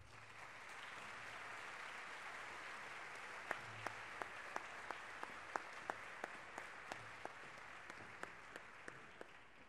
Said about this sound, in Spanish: acompañada en guitarra por Gustavo Barragán, a quienes recibimos con un fuerte aplauso.